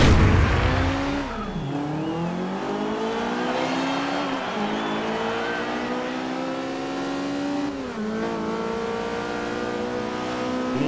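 In the Forza Horizon 2 racing game a car accelerates hard through repeated gear changes, its engine note climbing in pitch, dropping at each shift and climbing again, loud and continuous with no voices.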